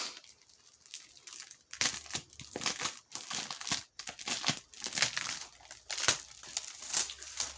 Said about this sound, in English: So I'm going to take it out of the wrapper.